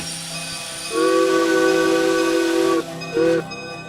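A steam locomotive whistle in the train game Derail Valley blows one long steady tone, then a short second toot, over a low hissing steam background.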